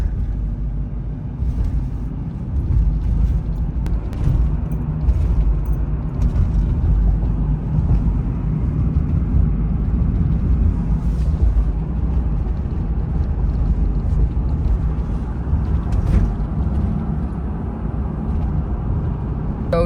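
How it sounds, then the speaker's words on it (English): A car drives along a marsh road on Cape Cod in winter, a steady low rumble of engine and road noise with wind buffeting the microphone, continuous and fairly close throughout. "I am about to drive through the marsh"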